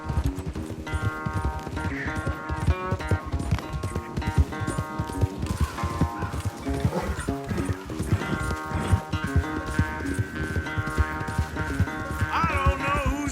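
Horses gallop flat out in a race in Red Dead Redemption 2, a dense, rapid clip-clop of hooves running throughout, close and loud, mixed with music and a brief whinny.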